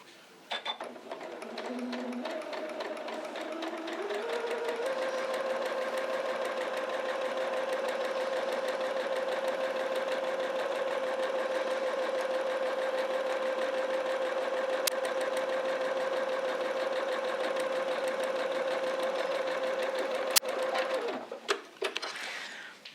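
A sewing machine stitches quilt block pieces in one long continuous run, its steady whirring hum winding up at the start and slowing to a stop near the end, with a couple of faint clicks.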